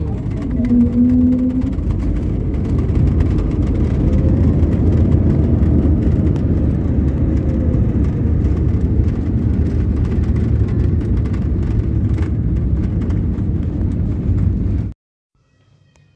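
A loud, sustained roar of a jet airliner landing at Cochin International Airport, with heavy rumbling filling the clip, then cutting off abruptly near the end.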